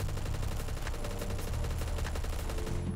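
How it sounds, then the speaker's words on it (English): A .45 ACP submachine gun in the Phantom Forces video game fires rapid sustained automatic bursts, dense and continuous over a busy game soundscape. "And I have 50 rounds, so I can just keep shooting"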